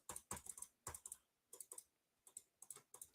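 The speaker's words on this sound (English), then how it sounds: "or keyboard typing" Someone types on a computer keyboard at a desk, with quick close bursts of keystrokes coming in several irregular runs separated by short pauses, clear and alone.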